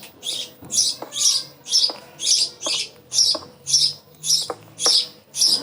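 A bird chirps in a steady, regular rhythm, about a dozen bright calls at even intervals, close and clear over a quiet background.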